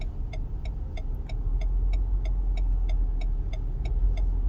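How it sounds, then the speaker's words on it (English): A car engine idles steadily at low speed while reversing gently, with a continuous low rumble and a regular ticking beep repeating about every third of a second. "putting the reverse gear on, and we're gonna just reverse"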